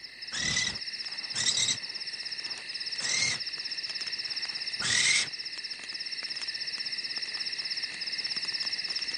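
Crickets chirp steadily at night in a continuous high trill, broken by four short, louder bursts of insect-like chirping early on, with no voices present.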